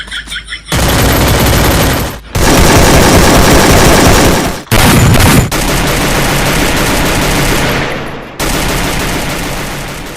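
Gunfire from the Free Fire video game, loud rapid automatic bursts running almost continuously, broken by a few short gaps, dominating the sound.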